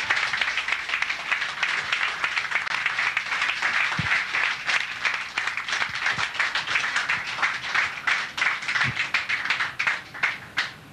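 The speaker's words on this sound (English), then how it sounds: "Let's give another round of applause for the players." Dense, sustained audience applause fills the hall after a $100,000 pool challenge match between Efren Reyes and Earl Strickland, with many hands clapping steadily and loudly throughout without letting up.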